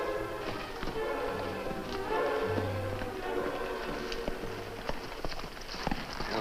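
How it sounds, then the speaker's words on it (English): Hoofbeats of horses riding through the night, rendered as a radio-drama sound effect: a steady, soft clip-clop of hooves at a trotting rhythm, moderately faint with no voices over it. "As the Lone Ranger and Tonto rode through the night toward the mission of their old friend"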